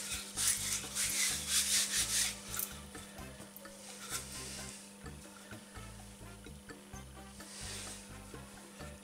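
A floured rolling pin rolls out dough for a sardine coca, making repeated soft rubbing, rumbling strokes in a steady back-and-forth rhythm, close and fairly quiet.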